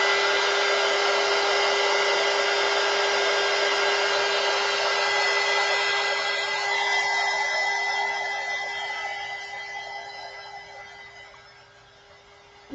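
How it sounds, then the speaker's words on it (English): A heat gun used in crafting blows a steady, fairly loud whirring hiss with a faint whine, holding even before gradually tapering off toward the end, with no talking. "I hate using my heat gun."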